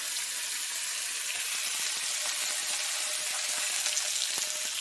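Chicken frying in oil in a pan for berbere chicken, giving a steady, even sizzle and crackle throughout, close and moderately loud with no talking.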